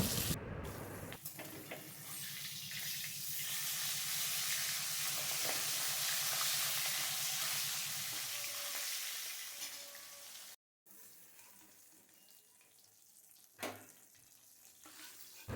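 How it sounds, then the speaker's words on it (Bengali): Hilsa fish frying in mustard oil in a wok produces a dense, even sizzle that holds strong for several seconds, then eases into a quieter crackle with a brief cut and a few stirring knocks, close by with no voices. "ওই কড়াইটাই বসিয়ে দিয়ে সর্ষের তেল দিয়ে নিচ্ছি এখন আমি ইলিশ মাছটা একটু ভেজে নেব"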